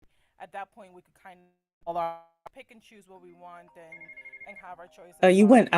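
A mobile phone rings with a steady electronic tone that grows loud and bright near the end, cutting into someone talking.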